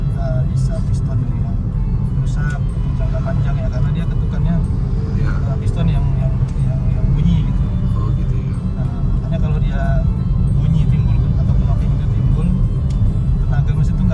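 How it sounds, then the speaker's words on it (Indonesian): A 2023 Suzuki S-Presso's engine is revved with the gas pedal pressed while the car stays still, giving a steady, close, low rumbling drone that holds for the whole stretch, with voices now and then. "Kita tekan gas mau bunyi makin keras, tapi dia mobilnya nggak jalan-jalan."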